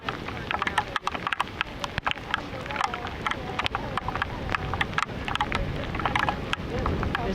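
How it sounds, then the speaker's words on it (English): Heavy rain squall pours down outdoors on lava fields on the Big Island, a dense, steady roar of drops with sharp close spatters throughout, no voices. "It is really, really, really coming down out here. We're having a true Big Island rain squall."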